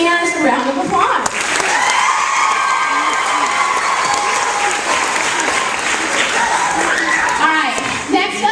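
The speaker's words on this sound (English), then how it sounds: "super singers, a round of applause." Audience applause and cheering for a group of 8th grade singers fill the room, a dense steady wash of clapping with some shouts, continuing for several seconds at full level.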